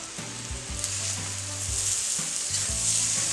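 Curry fried rice with sugar, salt, curry powder and soy sauce stirred in a hot pan: steady loud sizzle with repeated scraping strokes of a spatula, no voices.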